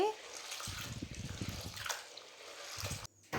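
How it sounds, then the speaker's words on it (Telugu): Split cowpea lentils being washed by hand in water in a bowl: close, soft sloshing and trickling water with faint drips, continuous for a few seconds before a brief pause and a final splash. "ఒక గిన్నెలోకి అలసంద బేడలు వేసుకొని వాటర్ వేసుకొని రెండుసార్లు బాగా కడుక్కోవాలి"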